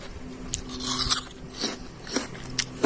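Raw snow lotus root (yacon) being bitten and chewed close to the mic, giving crisp, wet crunches in a quick irregular series over about three seconds.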